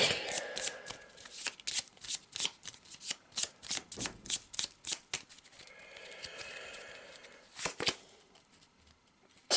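Deck of map cards for a board game being shuffled up close, a run of quick crisp riffles and flicks with short pauses between bursts, no talking.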